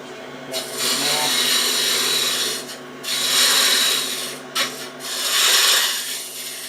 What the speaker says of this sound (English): just want to turn a little spigot there